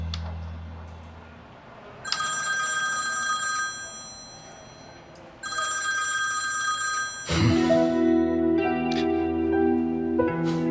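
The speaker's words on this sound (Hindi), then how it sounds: "निहाल, मुझे पता था इस बार तुम फोन जरूर उठाओगे।" A telephone rings in bursts, a bright electronic trill that stops and starts again, with the last ring louder and fuller.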